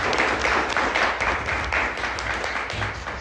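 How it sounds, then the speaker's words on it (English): Audience applause for a deputy mayor at a mayoral debate during a Black women's expo, a dense, close wash of clapping sustained throughout with slight swells. "Let's give Mr. Davis a real round of applause."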